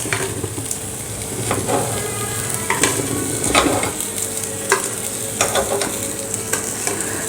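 Ragi appe sizzle steadily in an appe pan close up, with a continuous frying hiss and scattered light clinks and scrapes of a utensil against the pan.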